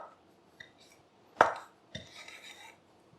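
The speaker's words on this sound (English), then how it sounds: "I'm just going to go ahead and crush the peanuts and kind of grind them into my board." Peanuts being crushed and ground on a cutting board with a blade, a few sharp knocks and scraping rubs close by, one loud crack followed by a short gritty grinding.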